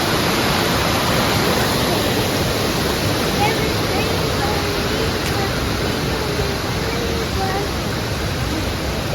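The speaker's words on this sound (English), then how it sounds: "Look at the river." Broad, steady rushing of a river flowing nearby during an outdoor nature walk, a continuous wash of water noise throughout with no clear breaks.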